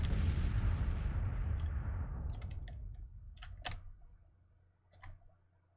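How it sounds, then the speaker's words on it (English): Artillery bombardment in the Grand Tactician Civil War strategy game: a rumbling barrage that slowly fades, followed by a few sharp distant reports and clicks. "Oh, they are still bombarding. And they're bombarding the spot where they are going."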